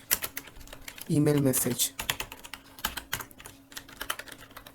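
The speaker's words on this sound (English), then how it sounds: "So let me type it, from email.message import" Rapid clicking of computer keyboard keys as Python code is typed, a steady stream of close, crisp keystrokes with someone speaking briefly over the middle of the run.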